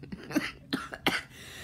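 A few short, harsh coughs in a quick cluster, close and fairly loud, then a brief pause and a softer trailing breath.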